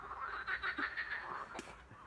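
Toads croak in a chorus, a run of short, faint, rhythmic calls from nearby animals, with a couple of sharper clicks near the end.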